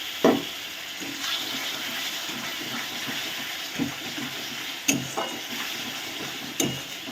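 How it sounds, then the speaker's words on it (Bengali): Water from a rinsed spice bowl splashes into chicken masala frying in a pan. A hissing sizzle follows, broken by occasional sharp stirring knocks and scrapes close by. "এবারে আমি মশলার বাটি ধোয়া একটু জল দিয়ে দিচ্ছি।"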